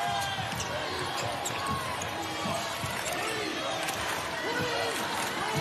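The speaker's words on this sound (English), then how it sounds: "Hubbertville crowd chanting defense here as we near the midway point of our fourth quarter." A high school basketball crowd at a boys 1A state championship game between Hubbertville and Brantley chants steadily from the stands, with sneaker squeaks and bounces mixed into a continuous arena roar that never drops out.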